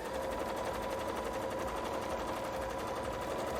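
An electric sewing machine stitches fabric teeth onto a Haunter-themed bra, a steady, continuous mechanical whir with fast regular needle rattle, fairly close and running unbroken without speech.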